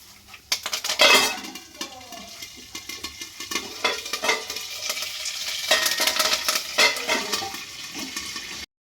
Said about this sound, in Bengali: এবার আমি এর মধ্যে কারি পাতা দিয়ে দিচ্ছি।